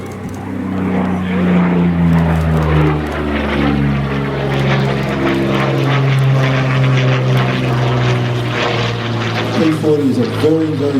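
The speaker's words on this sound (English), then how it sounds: "P40 is a very, very rugged, very reliable aircraft" A Curtiss P-40 Kittyhawk fighter flies over Temora, New South Wales, with a steady droning piston propeller engine whose pitch slowly shifts as it passes. Someone talks over it throughout.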